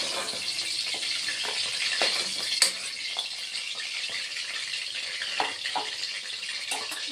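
Lentil badi frying in hot oil until reddish, a continuous hissing sizzle with scattered crackles and one sharper pop, close and moderately loud, no voices.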